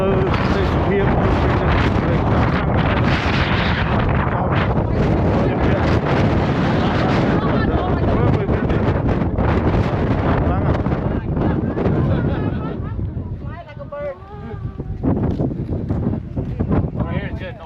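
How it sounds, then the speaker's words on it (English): Strong wind at Zabriskie Point in Death Valley, California, roars across the microphone as loud, continuous buffeting that eases briefly near the end. Voices talk underneath it. "They got a little bit too much windy here"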